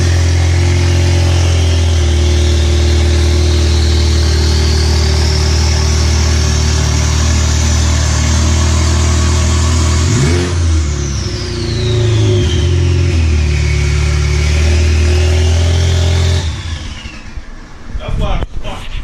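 A 2016 Ford Focus RS engine with a downpipe exhaust revs loud and close, its pitch climbing steadily, then dropping and rising again before it settles to idle.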